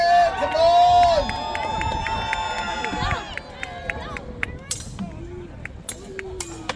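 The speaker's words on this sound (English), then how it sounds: "Come on, cheer them on, cheer them on, cheer them on" A crowd cheers and shouts through a mock medieval battle at an Easter festival at Arundel Castle, a dense, steady roar of voices that thins into scattered calls and sharp whistles toward the end.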